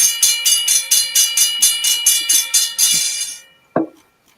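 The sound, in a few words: Safe Trend hybrid bell ringing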